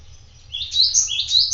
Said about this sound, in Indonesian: Dan yang kandang kapsul ini labet.